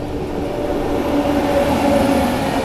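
A train hauled by a WAP-7 electric locomotive from the Ghaziabad shed rumbles past on the Kota line, a loud, steady roar of rolling wheels throughout.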